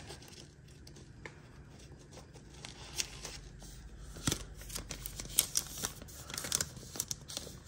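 Paper tearing and crinkling as a package of glassine envelopes for storing butterflies is opened, a close run of rustles and rips that gets busier and louder toward the end, with no talk.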